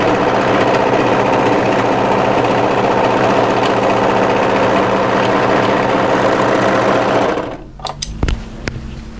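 An overlocker sews a seam on a raglan hoodie, a loud, steady whirring run that stops near the end, followed by a few clicks and handling taps.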